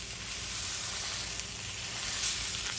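Four eggs fry in a pan, sizzling with a steady close hiss and small crackles.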